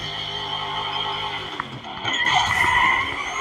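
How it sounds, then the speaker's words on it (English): Muscle car engine in the racing game NFS No Limits revving hard near the limiter, with a sustained high engine whine and tire skid, and a brief dip before the revs surge again. "Over-revved it just barely."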